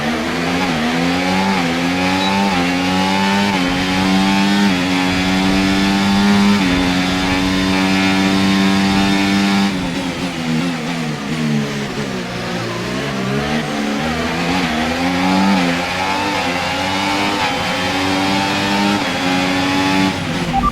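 Formula 1 race car engines in a 2024 video game race wail loudly and continuously, pitch climbing and dropping through gear shifts as cars accelerate and brake, with a dip and recovery midway.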